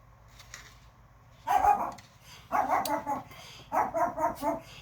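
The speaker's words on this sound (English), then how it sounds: "I don't know why my dog decided he wanted to be crazy." A dog barks in three loud, close bursts of repeated barks, separated by short pauses, over a low steady indoor hum.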